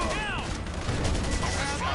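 Gunfire in the video game GTA V, dense rapid bursts of shots crackling continuously through a busy game mix, with voices running underneath.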